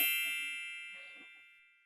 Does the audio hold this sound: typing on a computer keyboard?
no